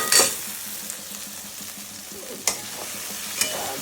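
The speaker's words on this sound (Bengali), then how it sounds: "এদিকে আবার নিম পাতা ভাজছি" Neem leaves fry in hot oil with a steady, soft sizzle, broken by a few sharp clatters of stirring in the pan.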